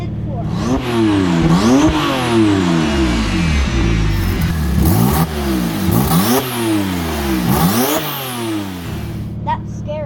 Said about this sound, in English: we got some engine revs in the driveway